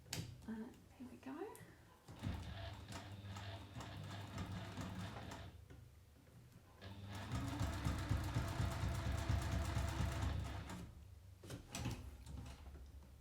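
A sewing machine stitches down a fold in a sling bag, running in two bursts of fast, rhythmic mechanical chatter with a pause between them, set close and quiet amid handling noises.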